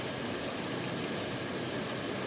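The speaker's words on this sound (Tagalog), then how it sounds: "Ay, ulan yan." Steady morning rain falling outdoors, an even, continuous hiss of drops with no pauses and no voices over it.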